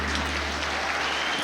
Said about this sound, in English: with a big round of applause from the audience in here